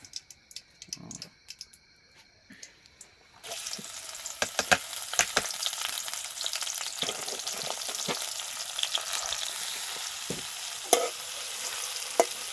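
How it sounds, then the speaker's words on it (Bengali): Garlic and onion for a nihari tempering hit hot oil with a sudden loud sizzle a few seconds in, then fry steadily with scattered scraping stirs; a few quiet clicks come before the sizzle starts. "বাগার দিবে কি দিয়ে? রসুন পেঁয়াজ।"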